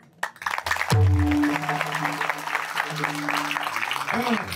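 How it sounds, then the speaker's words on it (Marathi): Audience members at a kirtan clap along in a dense, steady patter. The clapping blends with a voice and sustained tonal music, loud and close throughout. "म्हणून टाळी वाजवा."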